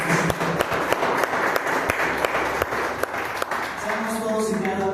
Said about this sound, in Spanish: Vamos a darle un fuerte aplauso al Señor porque Dios lo merece.